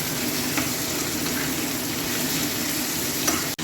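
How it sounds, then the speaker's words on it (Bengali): Chicken mince and prawns frying in a pan for chowmein, a steady dense sizzle with occasional stirring scrapes, close and continuous throughout. "এবারে কিমা চলে গেল, চিকেন কিমা আর প্রন চলে গেল, তাতে ভাজা চলবে"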